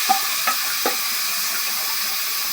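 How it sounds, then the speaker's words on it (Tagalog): Chopped pork and onion sautéing in a pan, a steady close sizzle with a few soft scraping stirs early on. "yung ginisa na warik-warik sa sibuyas"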